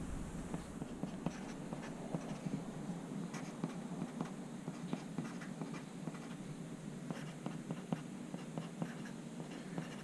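Pencil scratching across paper while working circle area and circumference problems, a steady run of soft close strokes and taps with no talking.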